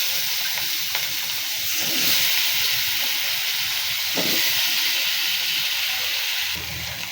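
Raw plantain hits hot spiced oil in a pan, giving a steady, loud broadband sizzle and hiss that swells briefly a couple of times as the pieces fry, with no talk.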